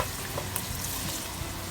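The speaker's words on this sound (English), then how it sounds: "We're going to add some garlic to it. We're going to stir that around" Garlic fries in a simmering pan while being stirred, giving a steady, close, even sizzle and crackle throughout with no voices.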